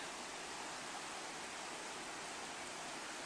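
Pine Creek water, partly diverted by sandbags and rock, rushes into a small retention pond. It makes a steady, even hiss of flowing water with no voices.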